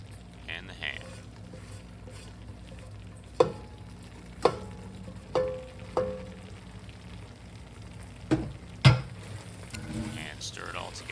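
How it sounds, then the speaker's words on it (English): Pasta, ham and cheese sauce for homemade mac and cheese being stirred together in a pot, with a handful of scattered spoon knocks and scrapes over a low background hum. "And stir it all together."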